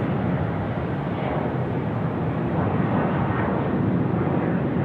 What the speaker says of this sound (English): Jetstar service getting away there, dropping out to Perth tonight.